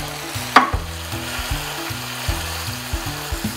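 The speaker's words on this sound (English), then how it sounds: "we're just gonna fry that garlic up for just a moment before we put the mushrooms on top" Hen of the wood mushrooms and garlic fry in olive oil in a pan with a steady close sizzle, broken by a few stirring knocks and scrapes.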